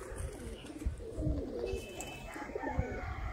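Sialkoti rooftop pigeons coo in low, rolling repeated calls close by, with faint background noise.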